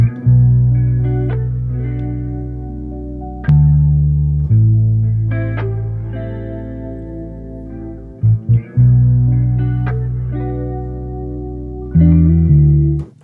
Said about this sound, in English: I'm actually gonna use the live bass, which I used a real bass guitar